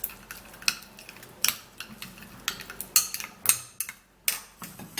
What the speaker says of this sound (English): And then we'll give it a mix.